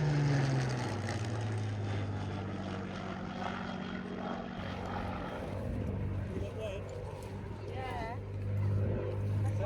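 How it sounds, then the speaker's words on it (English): A Spitfire propeller aircraft drones loudly and steadily overhead at an airport open day, its engine tone rising slightly toward the end, with people talking underneath. "Oh, good lord, it's a Spitfire."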